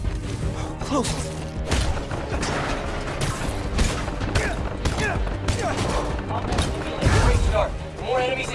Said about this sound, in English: Incoming. Watch out for gunfire.